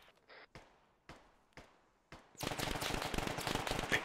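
ARMA 3 combat: a few spaced single gunshots, sharp against near silence, give way to dense, loud, sustained automatic fire.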